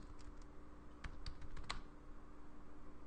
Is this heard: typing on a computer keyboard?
yes